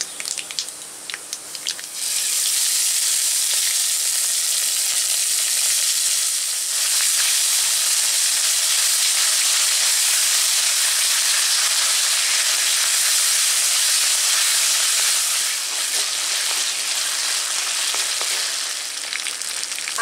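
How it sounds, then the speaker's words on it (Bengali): Ginger paste hits hot oil already seasoned with bay leaf, dried red chilli, nigella and panch phoron, bursting into a loud, continuous sizzling hiss after a brief quieter start and holding steady to the end. "তেল গরম হয়ে গেছে, তেজপাতা শুকনো লঙ্কা দিয়ে দিচ্ছি, কালো জিরে, পাঁচফোড়ন, এবার দিচ্ছি আদা বাটা"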